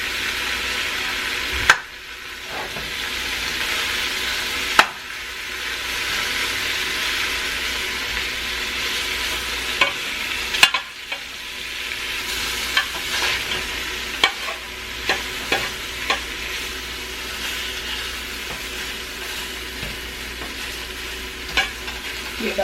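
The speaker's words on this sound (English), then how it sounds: "So this, I'm just browning the oxtails, okay?" Oxtails browning in a pan for Jamaican curry oxtails give a steady, broad sizzle throughout, with occasional sharp clicks and knocks from turning the meat and utensils against the pan; no one speaks.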